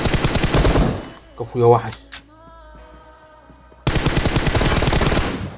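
Rapid automatic gunfire bursts from a mobile shooter video game, loud and close, between stretches of excited talking from a player over the game sound.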